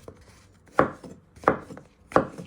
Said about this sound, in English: You want to chop them in half. And you just slice them into pieces.